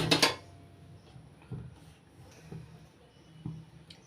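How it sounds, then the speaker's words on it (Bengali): A metal wok (kadai) is set down on a lit gas stove in a home kitchen while making mango patishapta, giving a sharp clatter at the start followed by a few faint, soft knocks and clinks. "এবার গ্যাস ধরিয়ে কড়াই বসিয়ে দিচ্ছি।"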